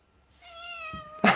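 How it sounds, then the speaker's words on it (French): A single drawn-out cat meow, close and clear, rising then ending in a brief breathy burst, in a quiet room. "dès qu'on l'a dit à chaque fois, elle miaule"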